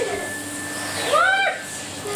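A household vacuum cleaner runs steadily with a continuous motor whine that swells briefly in the middle as the pitch shifts, close and fairly loud.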